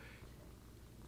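Quiet, close purring from a domestic cat, a steady low rumble that continues throughout the short stretch with no one speaking.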